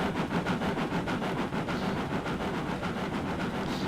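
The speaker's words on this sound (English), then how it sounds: "Listen to that lovely haul class steaming away in the distance" In a Train Simulator game, a Hall class steam locomotive works on the Dawlish line, making a steady, rhythmic chuffing and clatter at a moderate, even level.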